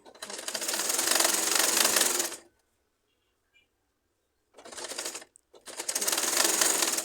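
A sewing machine stitching a baby frock, heard as two loud rapid bursts of needle clatter separated by a silent pause, close to the listener.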